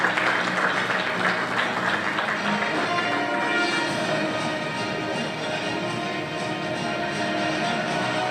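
Audience at a diploma award ceremony applauds steadily and loudly for the full length, a dense wash of clapping with no break.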